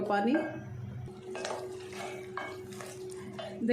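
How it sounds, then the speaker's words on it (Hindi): A spoon scrapes and clinks against a cooking pot while yogurt and spice masala are stirred and dried out for an aloo chicken curry, with a few close metallic knocks between soft scraping strokes. "मसाले के साथ हम दही को भी खुश्क कर लेते हैं।"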